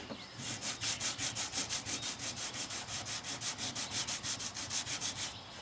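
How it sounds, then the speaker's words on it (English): Dry hand sanding of a car body panel with 180 grit paper on a sanding block: steady rapid back-and-forth rasping strokes, about four per second, close and loud with no talk. "We're going to start by dry sanding with 180 grit on a sanding block."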